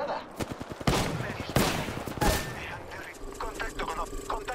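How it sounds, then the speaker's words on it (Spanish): Gunfire in a battle royale shooter, with rapid bursts of shots and sharp cracks in quick succession, then fainter beeps and interface tones, while a player talks over the action. "Atención, me están disparando"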